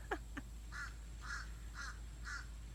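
Crows caw repeatedly beside a wildlife reserve marina, with about four harsh calls at a steady pace, preceded by a couple of sharp chirps, over a low constant hum.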